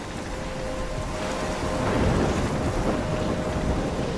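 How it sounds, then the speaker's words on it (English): A thunderstorm in the video game Life is Strange, with steady heavy rain, a low thunder rumble and gusting wind blended into one dense roar that swells slightly midway. "I'm trapped in a storm?"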